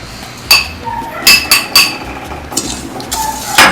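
Water and sugar being stirred in a bowl, a spoon striking the side in sharp, bright clinks, several close knocks at an uneven rhythm, no voices.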